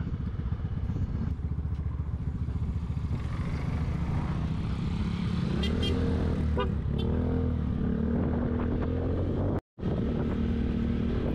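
Small motor tricycle engine droning steadily up close on a narrow island road in Polillo, Quezon, with a rising then falling pitch as it moves past, a brief cut in sound near the end.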